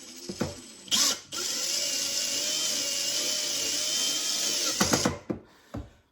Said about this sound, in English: I found some screws that work, but I am using the drill